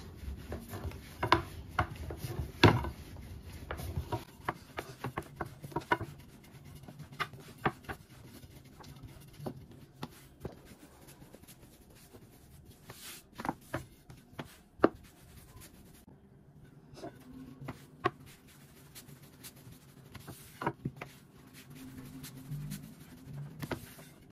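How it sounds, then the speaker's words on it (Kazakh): Dough being rolled out on a board for a quick homemade meal, with soft scraping, rubbing and intermittent tapping knocks in an irregular rhythm, close and fairly quiet, no talking. "Енді қамырымыз әдемі болып иі қанып тұр екен. Енді жақсылап жайып аламыз."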